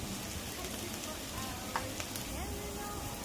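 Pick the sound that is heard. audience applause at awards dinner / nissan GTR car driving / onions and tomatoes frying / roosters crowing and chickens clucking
onions and tomatoes frying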